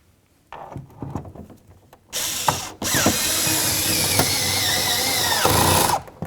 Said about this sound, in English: put in two of our mounting bolts. Make sure that's nice and tight and do the same to the other one.